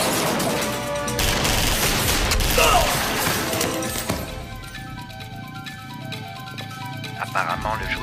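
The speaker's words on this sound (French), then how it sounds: "On dirait une fusillade." A rapid, crackling volley of gunfire bursts over a noisy, busy scene, followed by quieter mechanical clatter and a voice speaking.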